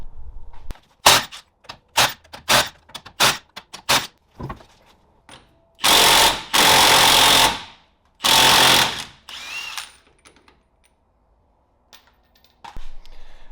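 Short bursts of pneumatic impact tools ring out during axle removal on a BMW E36 with a 2JZ swap, a quick series of loud rattling hits followed by several longer sustained buzzing runs, close by with no talking.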